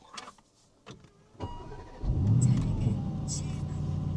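A car's engine cranks and catches around two seconds in, settling into a steady, smooth low idle rumble up close; a few faint clicks and rustles come before it.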